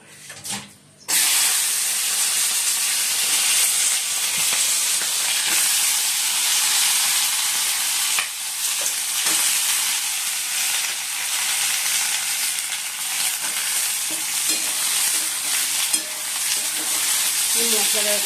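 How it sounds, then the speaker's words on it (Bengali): Onions and capsicum hit hot oil with an abrupt loud sizzle that then holds as a steady, dense hiss of frying, with occasional stirring clatter, close-up and without talk. "এবার তেলের মধ্যে দিই পেঁয়াজ আর ক্যাপসিকামগুলো।"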